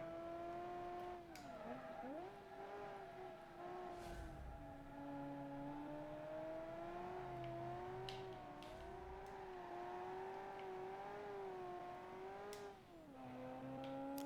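Modified car engine revving in a racing video game, a loud sustained drone that rises and falls with throttle changes, brief dips at gear shifts and occasional tire noise.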